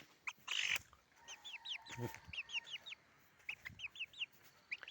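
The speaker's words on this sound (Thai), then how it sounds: "อัปเดตไก่ครับนี่" Domestic chickens cluck and murmur in short bursts, several birds close by with a rhythmic series of calls and one louder squawk, set against quiet farmyard background without talk.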